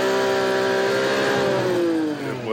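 A Lamborghini Countach engine revs loud and close, a harsh rising roar that swells and then falls away near the end.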